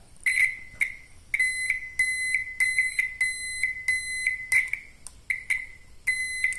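A small car turn-signal speaker repeats a low-decibel electronic beep with a bright, ringing tone and slight bass, sounding in an uneven rhythm of single and paired pulses, fairly close.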